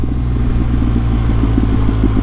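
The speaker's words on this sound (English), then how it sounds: "I've got an Akrapovic exhaust, which I think sounds awesome" A BMW R1250GS motorcycle fitted with an Akrapovic aftermarket exhaust and BT-Moto stage 1 upgrade rumbles steadily and loudly up close, a deep, even engine drone with a faint lumpy pulse and no voices.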